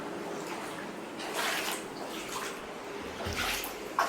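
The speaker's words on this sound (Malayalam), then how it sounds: "വെള്ളത്തിന്റെ സൗണ്ട് കേട്ട് രണ്ടുപേരും എത്തി നോക്കുന്നുണ്ട്" Floodwater sloshing inside a house makes close, faint watery swishes and splashes in irregular surges over a low steady background.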